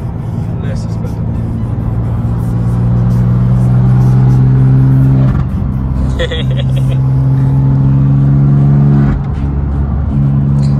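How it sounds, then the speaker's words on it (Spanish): A BMW M2 Competition engine revs and accelerates loudly up close on mountain roads near Marbella, its pitch climbing through gears with brief dips between shifts. "Yo sé que, como dice Art, en la cámara no se aprecia el sonido real que hace el coche ni las sensaciones"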